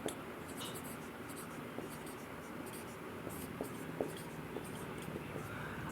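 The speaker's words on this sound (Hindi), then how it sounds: "अब मैं यहाँ दोबारा लिख रहा हूँ" Pen or marker writing by hand on a surface, a soft steady scratching with small taps and strokes, faint and continuous over low room noise without speech.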